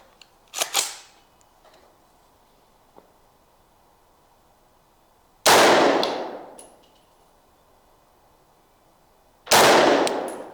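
A custom 300 Blackout rifle fires 220 grain subsonic rounds: two loud, widely spaced shots with decaying tails, following a fainter pair of sharp clicks and clanks near the start.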